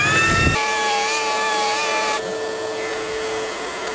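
A Makita 40V belt sander runs steadily on a board, a continuous whining hum with tonal harmonics, loud and close, with a brief change in tone partway through and no talk over it.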